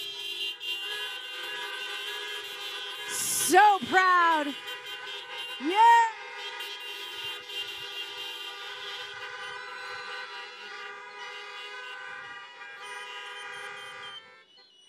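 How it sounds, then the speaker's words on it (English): Many car horns honk together at an outdoor drive-thru high school graduation, a dense sustained chorus of tones with a few louder blasts, while voices speak briefly over the din. "let me hear one final round of honking."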